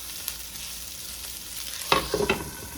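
Potatoes frying in a little oil hiss with a soft, steady sizzle in a pan, then a few louder scraping stirs near the end, close by and with no speech.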